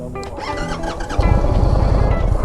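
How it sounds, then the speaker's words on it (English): A 2022 Indian Chief Bobber Darkhorse motorcycle engine cranks over and fires into a low, steady idle partway through, a fairly quiet rumble close by with no talking. "All right, nice little quiet startup."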